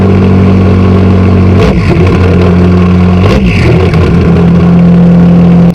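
Very loud, close car engine with straight pipe dual exhaust, blown catalytic converter and holed resonator, droning at high revs with two brief throttle blips that dip and rise again before cutting off.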